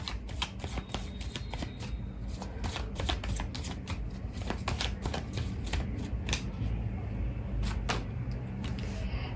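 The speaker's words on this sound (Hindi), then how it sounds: "मैं कार्ड्स लेती हूँ फिर आपको बताती हूँ।" Tarot cards are shuffled by hand in a steady run of quick, crisp riffles and slaps, each snapping cleanly and close up over a quiet room with no voice.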